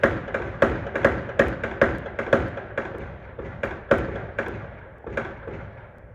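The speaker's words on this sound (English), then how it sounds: "if you listen closely, you can hear several gunshots." A string of sharp, distant gunshots at an irregular rhythm, about a dozen cracks echoing over a steady background hum, during a police shooting in a residential neighborhood.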